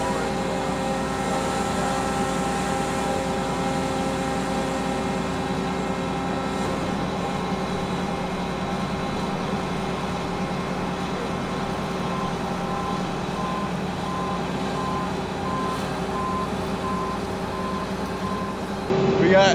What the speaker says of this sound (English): Got Spencer moving out with the military truck